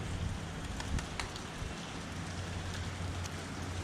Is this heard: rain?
yes